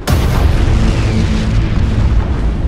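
A ship blows up in an asteroid field in Battlefleet Gothic: Armada, one loud, close explosion with a sudden hit and then a heavy rumbling tail that stays strong throughout.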